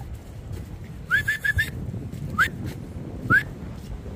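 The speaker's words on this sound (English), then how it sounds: "See, that's about 50 whistles, Blade." Short whistle blasts called out to a Boerboel dog outdoors in wind: a quick run of four rising chirps, then two single upward whistles spaced about a second apart, moderately loud over steady wind noise.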